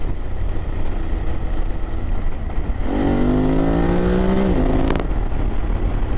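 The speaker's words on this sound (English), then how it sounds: "when you wind this one along and get in the higher revs, believe me, it does shift" A BMW F 850 GS motorcycle engine climbing through high revs over steady wind noise, rising in pitch before cutting off with a sharp click.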